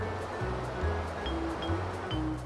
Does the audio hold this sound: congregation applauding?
no